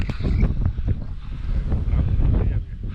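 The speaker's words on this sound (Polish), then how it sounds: "Ale wiatr się zerwał, nieprzyjemnie, nie?" Strong gusts of wind buffet the microphone in a loud, continuous low rumble, with faint water and boat noises underneath, at a fishing lake.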